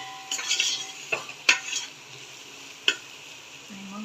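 Ginger and garlic being sautéed in a pan, a quiet sizzle under occasional sharp clinks and scrapes of a spoon stirring against the metal.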